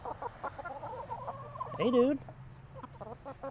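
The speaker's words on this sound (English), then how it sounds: "Oh my god, I have a chicken." A pet chicken clucks close by in a few short, throaty calls with one louder squawking cluck in the middle, while people chat casually around it.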